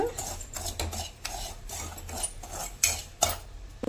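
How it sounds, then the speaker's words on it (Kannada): Semolina roasting in a pan for avarekalu uppittu, stirred with a metal spoon that gives repeated scraping strokes and clinks against the pan, close and moderately loud, without speech. "ರವೆನ ಚೆನ್ನಾಗಿ ಸ್ವಲ್ಪ ಹುರ್ಕೊಳ್ಳೋಣ"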